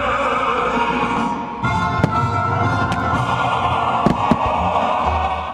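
Victory Day celebration fireworks boom and crackle in the distance, with a few sharp bangs standing out over a steady wash of crowd and ambient noise.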